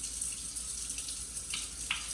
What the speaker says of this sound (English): we're going to use some cold water. I'm going to wash my hands with a little bit of hand soap